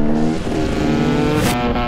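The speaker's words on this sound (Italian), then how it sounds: "KTM due tempi." A KTM 250 two-stroke supermoto motorcycle engine buzzes loud and close, revving in a short, sharp burst.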